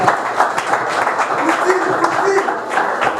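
Steady applause from an audience at a World Environment Day event, dense and continuous, with a murmur of voices mixed in throughout.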